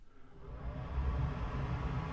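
A steady, broadband whoosh of a Vevor XF180 fume extractor fan running continuously, airy and low-pitched, rising slightly in level and holding steady, with no voices.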